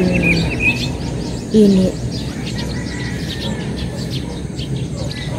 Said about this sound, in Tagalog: maririnig mo yung mga huni ng ibon, manok